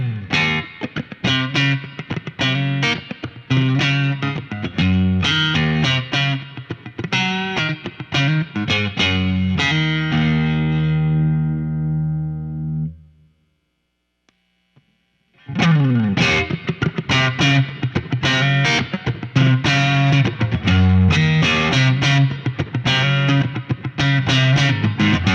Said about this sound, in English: So let's start with the clean and then boosted sound with no overdrive